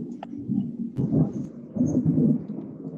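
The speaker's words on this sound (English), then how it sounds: "And I can hear that thunder rolling on all you guys." Low thunder rumbles in uneven rolling bursts during a town council meeting, moderately loud with faint rain-like texture and no talk over it.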